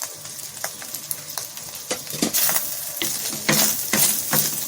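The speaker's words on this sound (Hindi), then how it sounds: "अच्छी तरह से चला लेना है, बस 1 मिनट से भी कम हमको इसको चला लेना है" A spatula stirs chicken fried rice with salt and chopped green onion in a hot pan, repeated scraping and clinking strokes over a steady sizzle, close and fairly loud.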